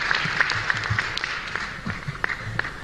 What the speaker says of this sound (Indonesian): Tepuk tangan buat Angkatan Udara kita.